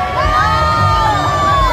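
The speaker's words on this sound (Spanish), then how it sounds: "están aplaudiendo por allá atrás" Crowd cheering and shouting with a festive, whooping sound at a Halloween night event in Medellín, a steady dense roar of many voices throughout, with children's shouts rising above it.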